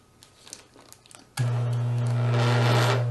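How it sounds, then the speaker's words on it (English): Dental lab vibrator switched on low with a bowl set on it, kicking in abruptly after quiet handling noise and holding a loud, steady electric buzz with a strong low hum. "Turn the vibrator on low and place the bowl on the work surface."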